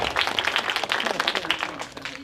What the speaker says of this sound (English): the audience can give a round of applause for all introductions